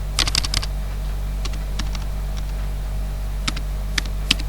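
Rapid keystrokes on a computer keyboard as a web address is typed, coming in short bursts and isolated taps over a steady low hum, close and fairly loud with no talking.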